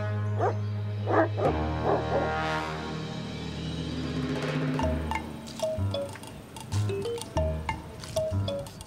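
Great Pyrenees guard dogs give a few deep barks and yelps early on, followed by a low, droning tone and scattered higher sounds. The barking is mid-distance and not very loud.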